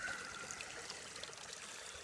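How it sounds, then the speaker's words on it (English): Water washes black sand down the center of a gold pan during panning in Alaska, a soft, steady trickling and sloshing heard alone and fairly faint. "it comes up from both sides and washes that black sand down the center"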